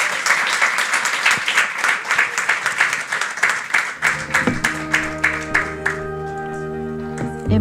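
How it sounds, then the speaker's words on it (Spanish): A conference audience applauds after a talk with dense, steady clapping that thins into scattered claps as music comes in underneath. "les pido un aplauso para Julieta"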